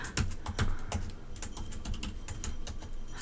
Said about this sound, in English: I'm having problems typing